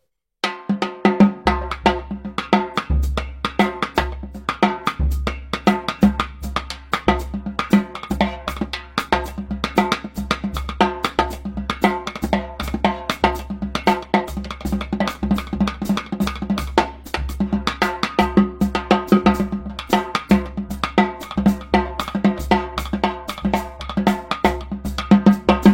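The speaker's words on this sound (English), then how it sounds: "Actually, we'll play it with the snares off." Tightly tuned snare drum played with the snares off, giving a rapid, steady run of crisp, ringing, tom-like hits that fill the whole stretch without any talk.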